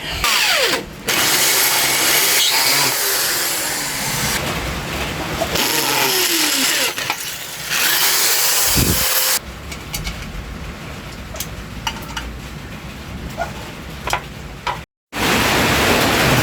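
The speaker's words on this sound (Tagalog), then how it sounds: "nabutasan na natin tong fender pati yung pagkakabitan natin" A power drill bores holes in the classic rear fender of a Yamaha YTX 125 motorcycle, loud whining bursts that rise and fall in pitch, separated by short pauses, then quieter handling clicks and taps.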